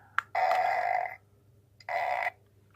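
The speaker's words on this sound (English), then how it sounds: "That's the fart button right there." The fart button on a radio-controlled, drivable poop toy gives two loud, buzzy electronic blasts, the first longer, the second shorter, with a brief click just before and quiet in between.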